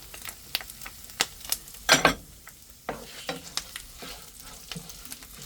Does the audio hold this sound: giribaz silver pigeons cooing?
no